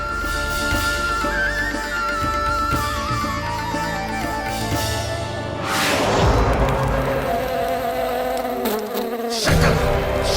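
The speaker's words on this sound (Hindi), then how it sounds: "लगता है मक्खी थक गई है" A housefly buzzes loudly and close for several seconds, its whine rising and falling in pitch as it circles, with a couple of dull thumps in a home setting.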